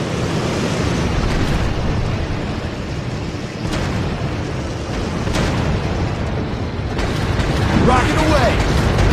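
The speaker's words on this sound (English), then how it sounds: "Firing rockets." Rockets firing from a warplane in the World of Warplanes air-combat game, a few sharp bursts rising over a loud, steady engine roar with no talk.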